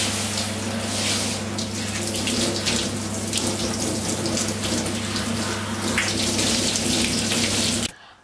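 Water runs steadily from a tap during a hair wash with shampoo, a loud, close, continuous hiss and splash that stops abruptly at the end.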